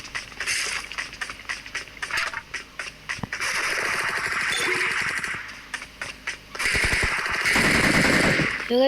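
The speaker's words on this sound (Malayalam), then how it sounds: "വെടി" Rapid bursts of gunfire in the game BGMI, some in quick automatic strings and single shots, loud and close, with a dense stretch of continuous firing near the end.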